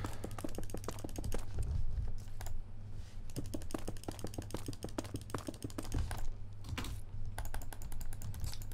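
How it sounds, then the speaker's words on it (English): Rapid, furious right-clicking of a computer mouse during a mining game, a dense stream of sharp close clicks running steadily throughout over a low background hum. "So I'm just furiously right-clicking now."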